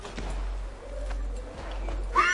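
Horse hooves clip-clop in the video game Assassin's Creed 3, soft rhythmic footfalls over a low steady rumble, with a brief higher sound at the end.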